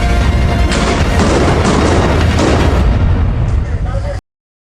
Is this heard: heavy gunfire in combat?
yes